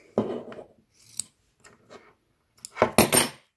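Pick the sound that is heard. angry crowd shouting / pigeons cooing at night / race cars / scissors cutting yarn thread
scissors cutting yarn thread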